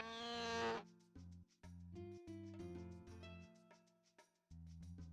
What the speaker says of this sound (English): This angry cow noise.